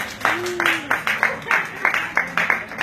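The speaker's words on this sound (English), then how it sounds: "Can we get a hand clap for keeping it dry?" An audience in a Microsoft store claps in unison: sharp, evenly spaced claps about three per second, loud and close, with a brief voice near the start.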